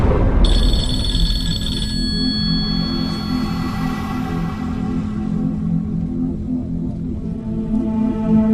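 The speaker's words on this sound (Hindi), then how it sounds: "वो बहुत देर से फोन बज रहा था, मैंने उठाया तो कैंसिल हो गया।" A telephone rings in a quiet indoor scene from a Pakistani drama, a bright repeating bell tone that sounds a few times near the microphone and then stops, with a low hum continuing after it.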